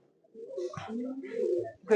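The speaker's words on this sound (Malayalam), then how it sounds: "ഇതാണ് പ്രാവ്" A racing pigeon coos close by in a low, throaty, rolling call, repeated a couple of times in a quiet enclosed loft.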